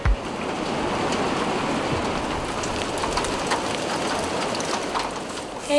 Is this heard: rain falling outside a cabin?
yes